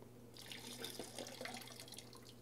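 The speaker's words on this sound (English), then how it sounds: "And I'll pour it back out" Homemade wine poured from a small vase back out, a steady close trickle of liquid running alone for about two seconds.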